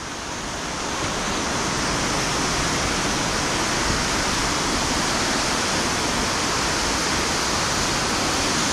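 Gayle waterfall swollen with rainwater runoff from surrounding fields roars in a constant, loud, broadband rush that builds over the first second and holds steady, with no voices.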